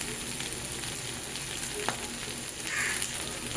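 Ground spices sizzling in oil in a pan for a morola fish curry, a steady hiss with one brief utensil tap and a slight swell toward the end, close and even, with no talking.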